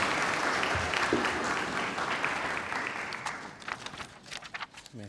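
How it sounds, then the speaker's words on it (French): An audience at a formal welcome ceremony applauds a speaker taking the stage with full, dense clapping that thins out and fades toward the end. "Sous vos applaudissements."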